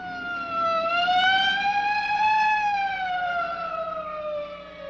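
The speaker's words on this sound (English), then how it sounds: "Hey, a police car." Police car siren from a 1950s sci-fi horror film, a steady wailing tone that rises and falls slowly, loud and close, sounding alone for about five seconds.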